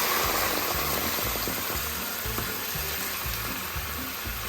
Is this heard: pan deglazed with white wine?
yes